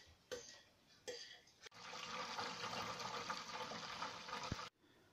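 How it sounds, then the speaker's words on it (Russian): Homebrew mash siphoned off its sediment through a drain hose with a squeeze bulb gives a steady, close gushing and splashing liquid flow lasting about three seconds, preceded by two short bursts of pouring. "Вот им очень аккуратненько можно слить с осадка."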